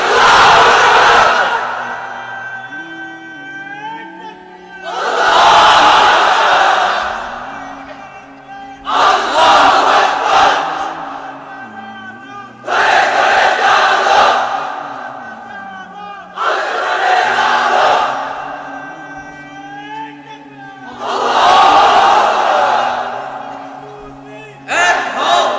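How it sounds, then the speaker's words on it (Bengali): A large crowd of unmarried men at an Islamic sermon gathering roars a takbir chant in unison, about six long, loud, echoing bursts at a steady rhythm separated by brief quiet gaps. "এবার অবিবাহিতরা দাও লিল্লাহি তাকবীর।"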